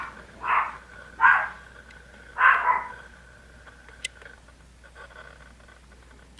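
A tiny Pomeranian indoors gives three sharp, high barks in quick succession near the start, then falls quiet against a low room hum.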